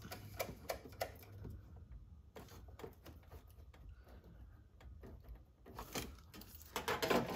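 A nut is run down onto the battery cable stud of a Volkswagen Mk1, making quiet rapid clicks and metallic ticks close by, in irregular bursts, with no talking.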